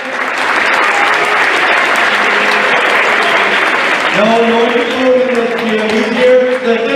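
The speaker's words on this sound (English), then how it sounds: "please give a big round of applause for our national officials appreciation week" Loud, sustained applause from a crowd at a school wrestling meet as a national official is honoured, filling the space steadily, then continuing under someone speaking over a PA.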